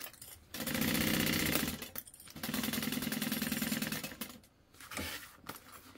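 A sewing machine stitches a bag lining in two long, steady mechanical runs with a short pause between them and a brief burst at the end, heard close with no talking.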